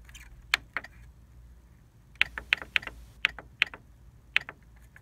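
Physical buttons clicked on the control panel of an HP PhotoSmart printer with no touch screen, a few isolated clicks followed by a quicker run of sharp, close, quiet presses.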